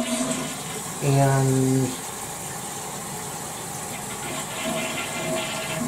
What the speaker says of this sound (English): The toilet's filling up.